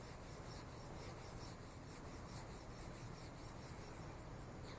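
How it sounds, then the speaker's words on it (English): Coarse abrasive grit rasps between glass as a telescope mirror is ground by hand, a continuous rough, gritty scraping that stays loud and even throughout, with no voices. "you'll also notice the sound the grit makes in the beginning. It's very rough sounding."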